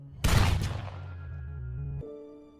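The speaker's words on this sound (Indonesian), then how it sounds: "Frank pun mengganjar Lazarus dengan sebuah tembakan telak." A single loud gunshot rings out in a film scene, a sharp crack with a long fading tail, followed by a quieter sustained tone.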